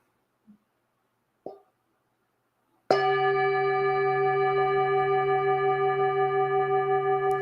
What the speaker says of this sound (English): So I'll invite the bell.